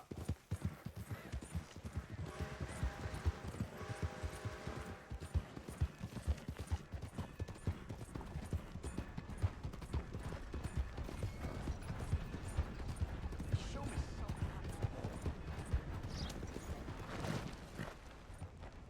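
Horse hooves pounding at a gallop in Red Dead Redemption 2, a fast continuous clatter of clip-clop beats throughout, fairly faint with some jingling tack.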